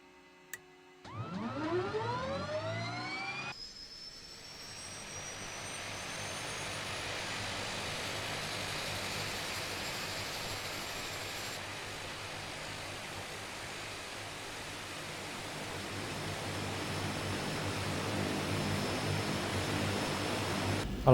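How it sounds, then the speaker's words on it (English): Right engine of a de Havilland Twin Otter turboprop starting up in Microsoft Flight Simulator, a rising warbling whine sweeping upward as the turbine spools, then settling into a steady loud roaring hiss with a high whine on top. "I like that warble sound as the engines spool up"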